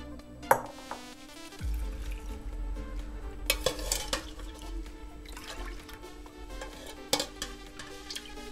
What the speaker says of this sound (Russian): Заливаем так, чтобы рассол скрыл сало.